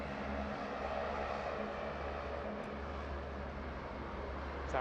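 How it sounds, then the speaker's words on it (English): An Air Calin Airbus A330neo airliner on final approach to runway 34 left at Sydney Airport, heard as a steady, distant jet roar that holds evenly throughout with no talk over it. "See our Air Calin A330 Neo just on finals here for runway 34 left."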